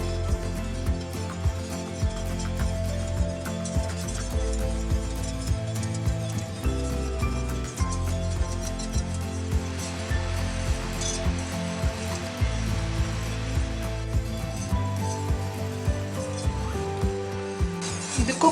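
A whisk stirs homemade two-ingredient chocolate syrup in a pan over a medium flame, making a steady run of rhythmic metallic clicks and scrapes against the pan.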